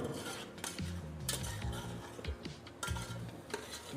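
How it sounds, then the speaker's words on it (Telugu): A spoon scrapes and clinks against a pot while stirring chilli-coated country chicken pieces for biryani, with repeated irregular metallic knocks and scraping over a faint background, close and fairly quiet. "కారం పట్టిస్తే కొంచెంసేపు అడుగు పట్టుకుంటే ఇలా కలుపుకుందాం."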